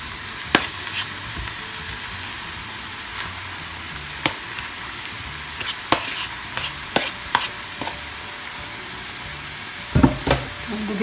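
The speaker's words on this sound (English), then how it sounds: "Now I'm going to add rice." Rice goes into a pan of sautéed paneer and vegetables for paneer pulao and gets stirred, giving a steady low sizzle with sharp clatters and scrapes of the spoon against the pan, heard alone and close.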